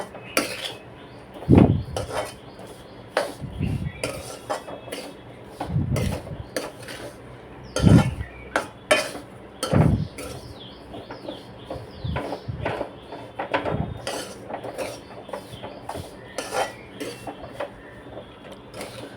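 A green moong and jaggery ladoo mixture is stirred in a bowl, with irregular knocks and scrapes of a utensil against the bowl, some louder thumps, and a steady faint background hum.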